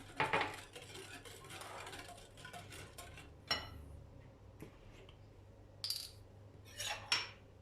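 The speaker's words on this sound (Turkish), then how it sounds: "Şimdi sütümü ilave ediyorum. Şöyle hafif karıştırıyorum." Pancake batter being lightly stirred right after milk is added, giving several scattered utensil clinks and scrapes against the bowl that come in short bursts, close by and fairly quiet, with no talking.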